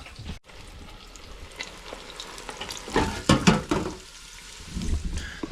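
Korean fried chicken fries in hot oil with a steady crackling sizzle that swells into louder bursts of bubbling partway through, close and without talk.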